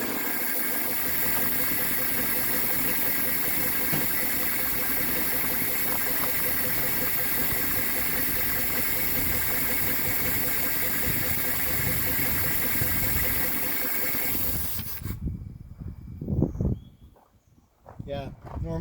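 A 1983 Toyota SR5 4x4 garage-find engine idling, a steady loud hum with hiss for most of the stretch before it cuts off and someone speaks over handling noise.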